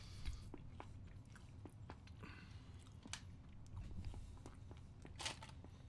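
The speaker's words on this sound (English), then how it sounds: "trying to bite into the hard Skittles" Someone bites and chews a mouthful of peanut butter with hard Skittles, producing faint, close crunches and irregular sharp clicks over a low background murmur.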